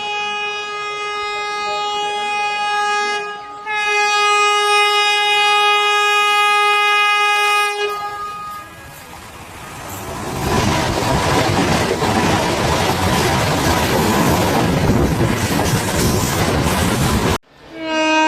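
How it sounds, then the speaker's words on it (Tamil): A Vande Bharat express passes close by, its loud horn sounding in long harmonic blasts before a heavy, sustained roar of wheels and carriages rushes past, with no talking. "இந்த பக்கம் வந்தே பாரத் கிட்டத்தட்ட வந்துருச்சுங்க, வந்தே பாரத் வந்துருச்சு."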